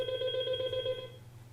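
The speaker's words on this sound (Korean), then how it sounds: "전화가 잠깐 울렸네요." A telephone rings once in a steady electronic tone lasting about a second, faint and somewhat distant in a quiet room, then fades out with no speech.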